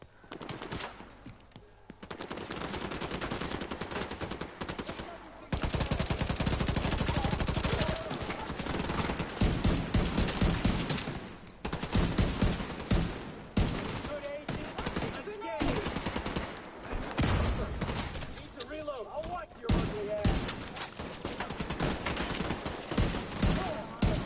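Heavy gunfire in The Division 2, with sustained automatic bursts and overlapping shots crackling loudly in dense volleys, broken by brief pauses.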